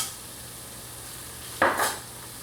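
Breadcrumbs toasting in olive oil in a Dutch oven, a quiet steady sizzle interrupted by a brief louder scraping stir near the end.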